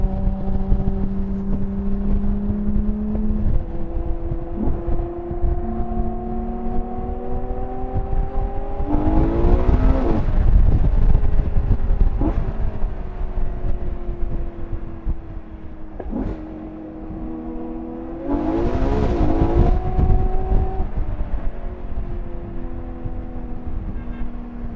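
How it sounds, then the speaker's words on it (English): A Ferrari Monza SP1 driven on an open road, its engine droning steadily and rising through two strong revving pulls, with gear changes and a heavy rush of wind noise throughout. "you're going to get an awesome drive with probably butchered wind noise"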